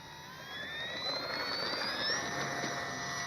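An FMS PC-21 Pilatus RC model jet takes off on a sunny day, its electric ducted fan whine rising steadily in pitch and loudness over a few seconds, close and continuous.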